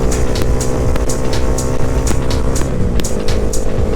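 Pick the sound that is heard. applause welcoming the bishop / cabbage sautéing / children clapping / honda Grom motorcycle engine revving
honda Grom motorcycle engine revving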